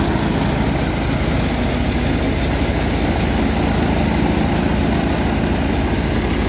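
A threshing machine runs steadily next to a John Deere tractor, giving a dense, continuous mechanical drone with low rumble and an even rattling texture that holds at the same loud level throughout, with no voices.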